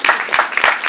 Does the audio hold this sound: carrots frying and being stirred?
no